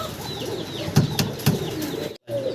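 Pigeons coo softly nearby, with a few short calls and a faint flutter of wings.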